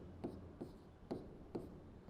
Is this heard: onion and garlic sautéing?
no